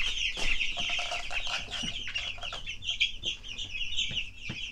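Chickens cluck steadily on a farm, several birds calling close by in a busy, overlapping chorus with a few sharper squawks standing out.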